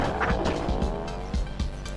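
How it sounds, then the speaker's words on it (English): Car engine dying out in the Death Road to Canada video game, a short game sound effect of sputtering and skidding car noise with rhythmic bursts over a steady hum, heard with no talking. "the engine's dying out on this car"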